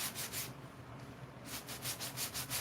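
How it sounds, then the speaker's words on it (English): Sandpaper rubs rhythmically back and forth across a Pokémon print, giving soft repeated scratchy strokes, a pause in the middle, then a faster series of strokes, close and quiet. "I'm concentrating my sanding on this side because this is the high side"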